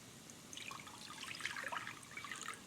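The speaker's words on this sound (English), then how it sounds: "I'm going to add some water to it" Water pours into a small cooking pot on the stove while braising continues nearby, a soft, close splashing trickle that runs steadily for a few seconds with no talk over it.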